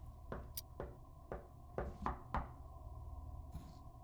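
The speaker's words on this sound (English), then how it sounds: "And he hears tapping on the door" Several sharp knocks on a door in the horror game Portrait of a Ghost, spaced irregularly in small clusters, fairly close and quiet against a low ambient hum.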